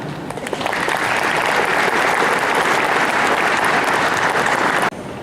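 A crowd at a sports awards gala applauds an award recipient, a loud, sustained wall of hand clapping that swells quickly and holds steady before stopping abruptly.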